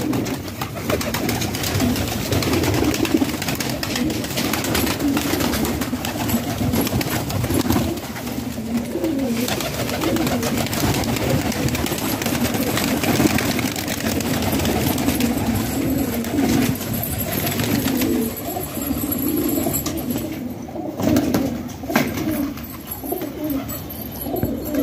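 A flock of about 200 racing pigeons in Layyah coos continuously in a thick, overlapping low chorus outdoors at midday, with occasional faint chirps and wing flaps mixed in.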